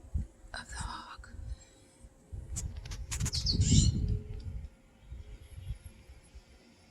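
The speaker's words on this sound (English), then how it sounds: "Oh, I hear the blue jay." A blue jay gives harsh, raspy squawks outdoors in windy, cold weather, several calls grouped around the middle, heard over a rumbling wind background.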